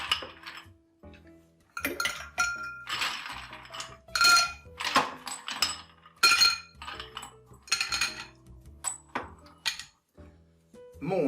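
Ice cubes clatter and clink into a mixing glass for a dry martini, in irregular bursts of bright glassy knocks and rattles, close and fairly loud.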